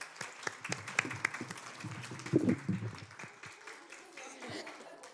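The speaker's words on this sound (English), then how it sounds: "give her a round of applause" Faint round of applause from a small audience at a Women's Business Center gathering honoring a departing staff member, soft dense clapping continuing with some voices underneath.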